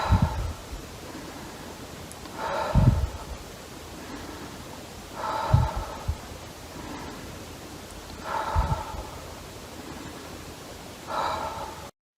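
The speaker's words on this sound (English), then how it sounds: "Blow out with your lips in this pursed position." Slow pursed-lip breathing, each breath blown out gently and steadily through puckered lips, repeating in an even rhythm about every three seconds, close and soft with faint inhales between.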